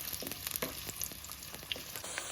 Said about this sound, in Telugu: ఆయిల్ వేసుకొని ఇది కొద్దిగా గోల్డెన్ కలర్ వచ్చేదాకా దీన్ని వేయించుకోవాలి.